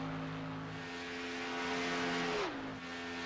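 A stock race car laps Talladega, its engine a loud, steady close drone with a strong held tone that drops sharply near the end as it passes, no voices.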